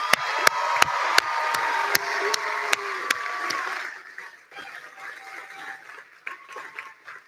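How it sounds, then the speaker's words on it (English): A commencement audience applauds, a dense wash of clapping with a few sharp, evenly spaced claps standing out close by, then thinning out and fading after about four seconds. "Students, please join me in applauding your loved ones."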